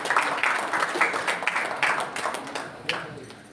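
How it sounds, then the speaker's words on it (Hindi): Applause from an audience at an outdoor community group's office-bearer installation event in Raipur, a burst of scattered clapping that fades out with some voices mixed in. "जोरदार ताली"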